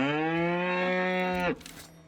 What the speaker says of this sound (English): On main roads, you're gonna come across cows or horses that are also gonna make noise if you get close to them.